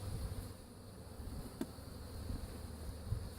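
Bees in a disturbed, angry hive swarm around a beekeeper's mask during an inspection, a steady low hum with occasional louder passes as individual bees fly close, no talking.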